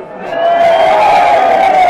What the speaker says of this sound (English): The crowd doing the best to put Luke Hooley off.